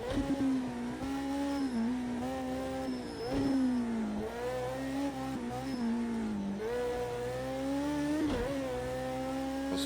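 BAC Mono race car engine in the Project CARS 2 racing game at Bathurst, a steady high-pitched drone that dips and climbs through repeated gear changes and throttle lifts, loud and alone without talk.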